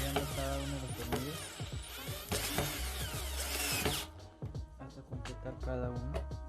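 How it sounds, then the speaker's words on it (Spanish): An electric drill buzzes in repeated bursts with clicking mechanical sounds between them, close up and fairly loud, then pauses before spinning again. "Y así vamos con la ayuda de un taladro eléctrico"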